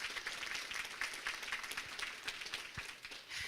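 Audience at a school district listening tour claps for the child nutrition staff: a steady, moderately distant patter of many hands that holds for a few seconds, with no break.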